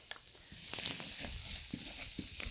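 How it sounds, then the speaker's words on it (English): Garlic and shallots sizzling in a generous amount of hot oil in a pan, a steady close hiss with faint crackles and a few small stirring knocks. "we're gonna throw in a whole bunch of oil into here. First thing is we're doing our garlic and shallots"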